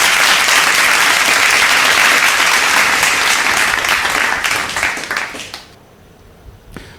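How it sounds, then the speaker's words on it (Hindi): A crowd applauds a student at an award ceremony honouring meritorious pupils, loud dense clapping sustained for about five seconds before tapering off to quiet with a last few scattered claps. "जोरदार तालियां इस बिटिया अक्षिता के लिए बजनी चाहिए"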